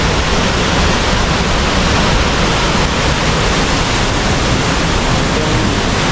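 A powerful waterfall at Salto de Corumbá in Goiás pours a heavy volume of water over a rock wall, making a loud, steady, unbroken roar up close.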